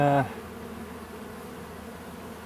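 Honey bees buzz inside a hive built within a wall, a steady low droning hum that carries on throughout after a brief louder tonal burst at the very start.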